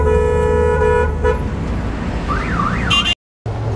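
Car horns honk at a busy city intersection, sustained toots and a wavering siren-like wail sounding over steady traffic rumble, then a brief dropout.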